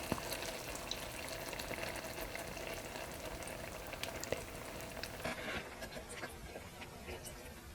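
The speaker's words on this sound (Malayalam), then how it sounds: "ഞാൻ തീ കുറച്ചിട്ടിട്ട് ഇതിലേക്ക് തേങ്ങാപ്പാൽ ചേർത്ത് കൊടുക്കാം" Coconut milk simmering with fish masala over a low flame gives a dense, continuous bubbling sizzle with scattered stirring scrapes, close and steady throughout.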